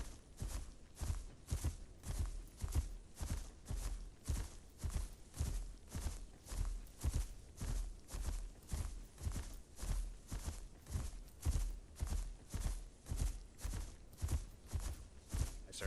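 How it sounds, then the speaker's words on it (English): Heavy, rhythmic footsteps in the dinosaur survival game Path of Titans, a steady unbroken stream of thudding steps repeating several times per second throughout, loud and close with no pause. "It's just it's constant footsteps all around me."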